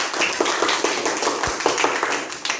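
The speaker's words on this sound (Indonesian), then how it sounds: "Tepuk tangan." Classroom applause as pupils clap for a classmate returning to their seat, a steady patter of hands lasting a few seconds at moderate volume.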